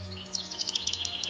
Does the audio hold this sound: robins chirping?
yes